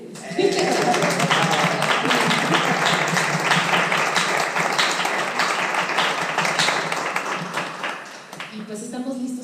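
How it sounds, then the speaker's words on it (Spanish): An audience at a round-table art exhibition event breaks into sustained applause, dense clapping that holds steady for several seconds before thinning out, with a few voices mixed in underneath. "Es el momento ahora de un aplauso"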